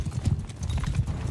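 Cavalry horses in Mount & Blade Bannerlord gallop in a quick, close clatter of hoofbeats during a battle charge, loud and rhythmic over a short stretch.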